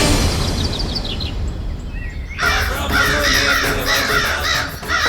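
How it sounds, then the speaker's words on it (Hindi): Several crows caw loudly and close together in a burst of harsh, repeated calls, preceded by a quieter stretch with faint distant bird chirps. "कौवे आ गए"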